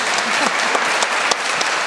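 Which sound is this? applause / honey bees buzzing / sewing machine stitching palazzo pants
applause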